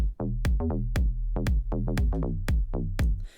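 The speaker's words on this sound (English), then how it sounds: "this small kick and bass line sound like this" Electronic kick drum thumps in a steady rhythm under a deep, pulsing synth bass line, loud and close, with a brief hissy swell at the end.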